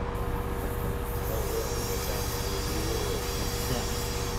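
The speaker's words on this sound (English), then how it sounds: "this train is very loud indeed" Loud, steady rumble of a train running in Train Simulator 2018 on the Peninsula Corridor, with continuous low drone and faint whining tones held throughout, no talking.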